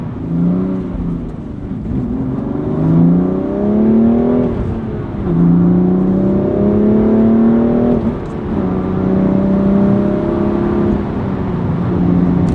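A BMW M2 sports car accelerates under partial throttle, its engine note climbing in pitch and dropping back between gear shifts in a steady, sustained run heard from close range with no talking.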